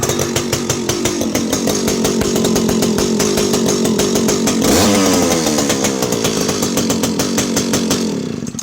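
A small vintage Alpina 0-70S 70cc two-stroke chainsaw engine runs steadily at a loud, buzzing idle, revving up briefly midway before settling back, close by.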